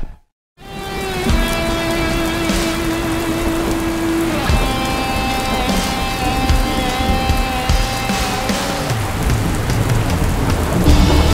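Heavy rain while riding a 218 kg motorcycle, a dense steady roar of drops and wind noise under a droning engine tone, loud and continuous throughout with no talking.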